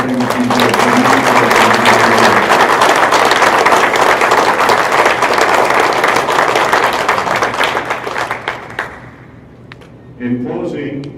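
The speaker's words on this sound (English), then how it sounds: "I think he needs a good round, a well round of applause for all the things he did." Loud, sustained audience applause at a school wall of fame ceremony, dense clapping for about eight seconds that tapers off, followed by a speaker talking again.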